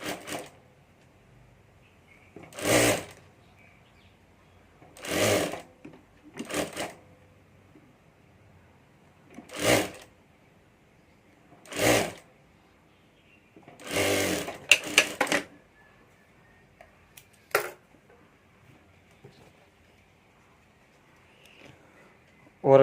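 A sewing machine stitches a handbag strap in short separate bursts, about seven quick runs of needle clatter spaced a few seconds apart in an otherwise quiet room.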